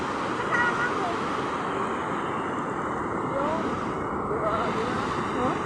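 Ocean waves rush and roar continuously with strong wind noise buffeting the microphone, a dense unbroken wash of surf sound.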